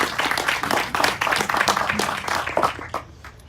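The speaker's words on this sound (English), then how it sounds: "Let's clap for her." An audience claps at a foundation launch event for special needs persons, a dense patter of hands fairly close and loud, fading near the end.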